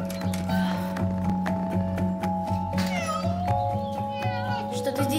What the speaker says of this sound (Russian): Глупая кошка!